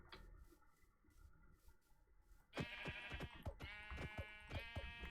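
Several sheep bleats from the Minecraft video game ring out in quick succession after a quieter stretch of ambient game sound, each call short, wavering and fairly close, with no one speaking.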